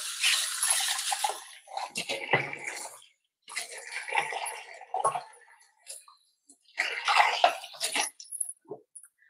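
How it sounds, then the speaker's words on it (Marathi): Water splashes and swirls around inside a mixer jar in several bursts with short pauses between, close and fairly loud, with no talking. "आता हे मिक्सरच्या भांड्याला जे लागले ते सगळं जरा पाणी घालून हे करतो"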